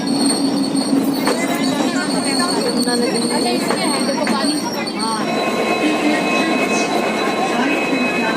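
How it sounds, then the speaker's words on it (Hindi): Passenger train travelling near the Yamuna river toward Old Delhi, with a steady loud rumble, wheel squeals and rattling carriage noise throughout, while a person talks over it. "ट्रेन का बहुत अच्छा मस्त सफर है हमारा"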